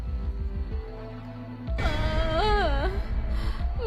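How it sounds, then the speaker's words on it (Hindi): In a Hindi horror story set deep in a forest, a voice wails and moans with a rising and falling pitch, loud and close, following a quieter low hum. "तभी उन्हें किसी के रोने की आवाज सुनाई देती है।"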